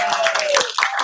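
An audience at an empowerment arts show gives brief scattered applause with a few claps, mixed with voices speaking over it.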